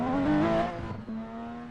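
Porsche engine in a racing video game, driving casually on country-style roads: a loud, steady engine drone with a rising rev, a brief dip, then a sustained tone, close and alone.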